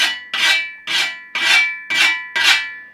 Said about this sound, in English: When you see very experienced people sharpening the blades, they will go like this